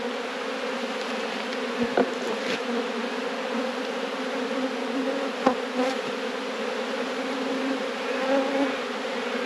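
Dense buzzing of honeybees robbing exposed honey frames from nucleus hives, a steady close swarm hum with individual bees zipping past the ear now and then, no talking.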